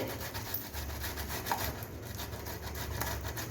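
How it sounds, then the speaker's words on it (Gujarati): Boiled potatoes grated by hand, a soft, continuous rhythmic rubbing and scraping that stays quiet and steady throughout. "આ રીતે આપણે બાફેલા બટાટાને છીણીને લઈ લઈશું"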